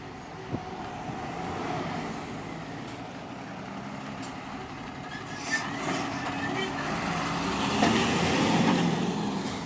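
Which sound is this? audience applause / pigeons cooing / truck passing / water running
truck passing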